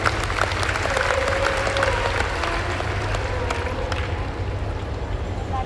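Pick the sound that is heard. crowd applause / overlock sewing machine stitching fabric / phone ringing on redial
crowd applause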